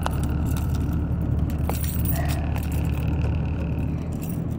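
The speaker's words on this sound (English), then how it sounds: "I gotta see if this keys work" A bunch of keys jangles close by while they are tried in a lock, with scattered metallic clinks and rattles over a constant low hum of a nearby vehicle or engine.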